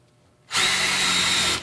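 A Ryobi 18V impact driver drives a 1 1/4 inch Phillips deck screw into wood. After a brief quiet moment, a single loud, close burst of whirring and hammering lasts about a second, then cuts off.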